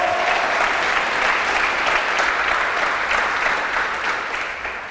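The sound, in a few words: church audience applauding the preacher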